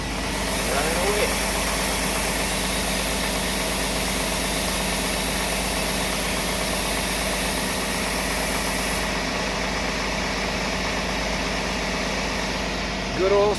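A 1999 GMC Safari van engine idles steadily after a cold start, a close, continuous mid-pitched running hum with slight vibration, and a voice speaks briefly over it.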